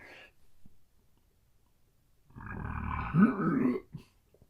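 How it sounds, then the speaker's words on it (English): A single deep, rumbling burp, about a second and a half long, after drinking very carbonated home brew, with brief faint sounds before it and silence around it. "this is going to make me burp because it's very carbonated."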